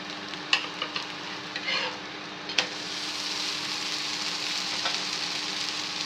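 A peanut dosa is flipped on a griddle, a few soft scraping taps of the spatula, then a quiet steady sizzle as it keeps frying.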